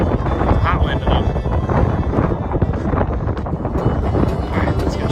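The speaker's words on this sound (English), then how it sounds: "Feel that wind coming through. Hot wind enough." Hot wind gusts across a rock face overlook near a desert ghost town, buffeting the microphone with a steady, loud roaring rush and no clear pauses.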